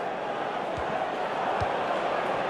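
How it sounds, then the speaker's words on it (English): Football stadium crowd in the video game FIFA 16, a Premier League match between Bournemouth and West Brom, making a steady, loud, dense roar of cheering that fills the whole stretch with a few dull thumps underneath. "And the crowd really enjoying it."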